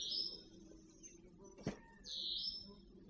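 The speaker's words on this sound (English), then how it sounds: "All you hear is the birds, basically" Bird calls ring out in a quiet wilderness forest at Savanna Portage State Park, with bright chirping phrases at the start and again near the end, plus a short sharp call in between over a soft low background.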